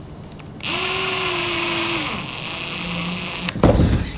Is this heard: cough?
no